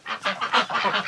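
Ducks and geese call in a busy run of overlapping honks and quacks, about six loud bursts in quick succession, close by with no talking.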